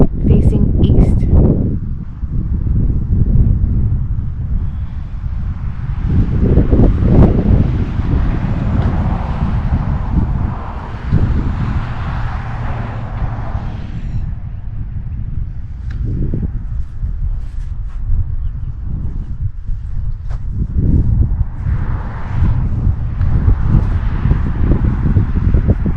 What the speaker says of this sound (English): It's a bit of a windy day here in Mount Dora.